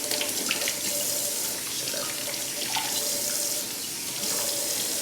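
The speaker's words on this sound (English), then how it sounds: "I'm gonna wash my hands really well" A kitchen tap runs steadily while hands are washed under it, a continuous close splashing stream with no talk.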